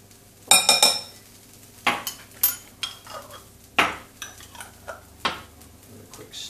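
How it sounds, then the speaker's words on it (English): A utensil stirs bubble and squeak vegetables with red pesto in a pan, giving a series of close scraping clinks and knocks against the metal at an irregular pace over a faint sizzle. "Give it a quick stir around."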